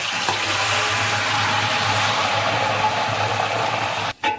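Two kilograms of onions fry in 2.5 kilograms of ghee in a large biryani pot, giving a loud, dense, continuous sizzle that briefly dips near the end.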